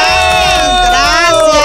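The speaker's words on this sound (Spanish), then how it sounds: "un aplauso." Audience at a drag show competition cheering for an introduced guest, a loud, close wall of shrieks, whoops and crowd noise throughout.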